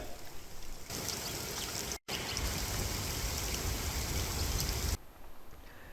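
Dense, steady rushing of heavy pre-monsoon rain with gusty wind in Raigad district, Maharashtra, fills the clip, broken by a brief dropout early on before the downpour resumes and then eases slightly near the end.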